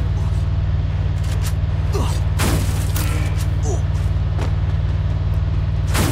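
A slow-moving truck in a battle royale video game gives off a loud, steady low engine rumble throughout, with a few sharp bursts that sound like gunfire.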